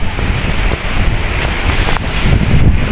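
Strong storm wind gusting across open rice fields, a loud continuous roar with heavy buffeting against the microphone and no pauses throughout.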